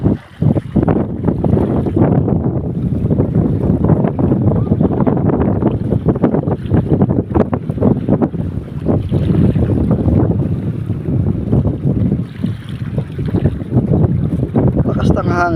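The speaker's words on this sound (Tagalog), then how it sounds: "Lakas ng hangin na nga" Strong wind sweeps over a boat, buffeting the microphone in a loud, unbroken rush with gusty swells and some faint voices underneath.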